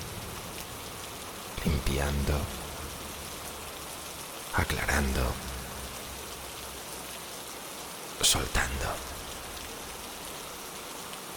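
Steady, soft rain falls outside throughout, with a calm voice speaking briefly in three short phrases over it.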